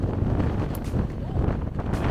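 Strong wind on a cliffside near Cape Town buffets the microphone, a loud continuous rumbling roar with gusty surges, with a voice faintly mixed in.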